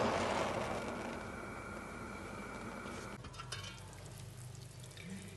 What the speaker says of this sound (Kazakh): Достар, мінекей холодец осылай жаймен қайнау керек.